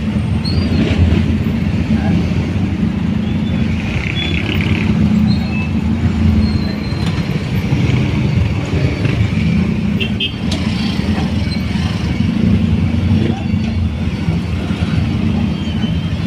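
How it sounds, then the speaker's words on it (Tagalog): Congested road traffic on an overcast Saturday afternoon near a closed road, a steady loud rumble of passing vehicles that continues throughout with faint higher noises but no talk. "Medyo traffic dito, sarado kasi nun yun."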